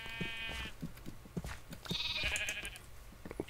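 Lambs and sheep bleat in the blocky farming world of Minecraft, several short wavering cries rising over a busy background of clicks and game sounds, moderately loud and close.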